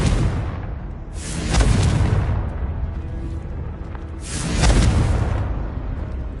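A Confringo fire spell blasting in a wizarding action game, two separate booming explosions a few seconds apart, each swelling with a rushing roar and fading into a lingering rumble.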